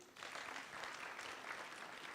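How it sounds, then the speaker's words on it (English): Audience applause at a college graduation ceremony, honoring the graduates' parents: steady, dense clapping that starts sharply and holds at an even level throughout, with no voices over it. "Please clap for our parents."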